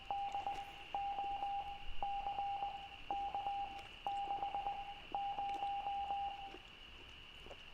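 Morse code beeping in the video game The Island: Into The Mist, a steady high electronic tone pulsing in short and long beeps in repeating groups, clear and moderately loud over a low background hum.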